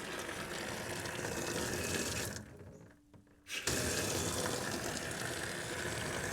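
Water rushing loudly through a newly installed pipe on a farm, a dense continuous gush that drops away briefly for about a second, then surges back at full force.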